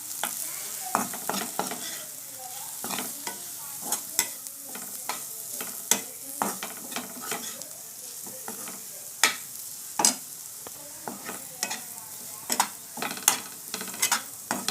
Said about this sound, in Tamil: நல்லா கலரி விட்டுக்கலாம்